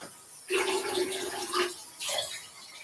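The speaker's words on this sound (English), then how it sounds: "What if I rinse my hair in the end now?" Running water pours in two bursts as hair is rinsed: a close, splashy gush lasts about a second, stops briefly, then starts again, with no voices.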